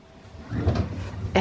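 A drawer in a baby dresser slides open or shut with a brief muffled rumble that swells and then ends in a sharper knock.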